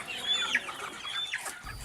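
Free-range chickens on an organic farm of native village chickens cluck in a busy, overlapping chorus at close range, moderately loud throughout.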